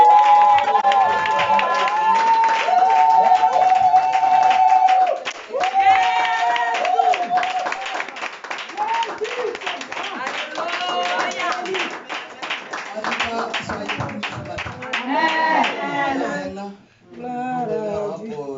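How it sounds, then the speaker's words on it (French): A church congregation at a French-language worship service claps and cheers in acclaim, lively rhythmic clapping mixed with voices and singing-like calls, fading in places and rising again before trailing off. "Et un dernier coup d'acclamation."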